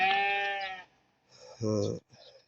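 Sheep, ewes at a livestock market, bleat close and loud: one long wavering bleat, then a shorter second call and a faint third, with quiet gaps between.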